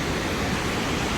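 Waterfall in Burney, California pouring into a pool at its base, a constant loud broadband rush of falling water, close and steady, with no talk.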